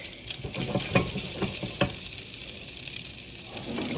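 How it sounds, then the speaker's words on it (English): Rice sizzles as it fries in oil in a skillet, with a steady hiss running throughout and a few sharper stirring scrapes and clicks breaking through, with no one talking. "I'm gonna toss the rice in the oil so all of the rice can get coated in the oil"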